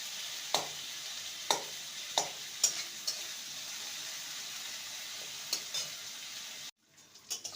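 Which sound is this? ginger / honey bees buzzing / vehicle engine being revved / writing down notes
ginger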